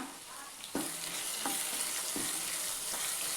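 Ground masala paste of ginger and garlic with a small tomato fries in a pan, a steady loud sizzle broken by a few sharp scraping stirs of a spoon.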